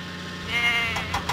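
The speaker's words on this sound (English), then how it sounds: "Salty must deliver the goats to Farmer McCall's farm" Goats bleating in a Thomas and Friends cargo-delivery video game, a short, loud, wavering bleat that rises near the middle and repeats in brief bursts toward the end.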